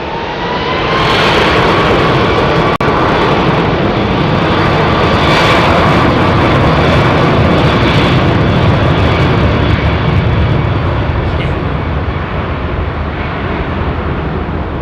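Boeing 737 departing from runway 27R at London Heathrow Airport, a loud, close jet engine roar that builds quickly and holds as a harsh, sustained rumble before easing slightly.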